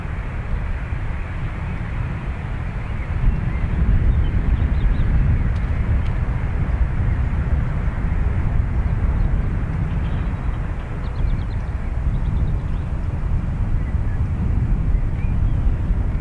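A Lufthansa airliner arriving from Munich lands at Dublin Airport, heard as a broad, steady roar with wind buffeting that swells slightly partway through and holds near and loud throughout.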